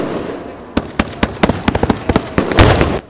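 Yanshui beehive fireworks at a Taiwanese festival crowd go off in a rapid run of sharp, loud bangs and cracks, densest and most crackling near the end.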